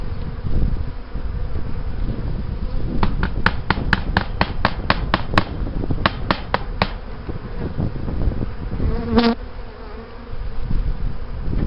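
Honey bees buzz steadily around an opened hive during a spring inspection, a close continuous hum overlaid by a run of sharp rhythmic knocks and a later scrape of equipment.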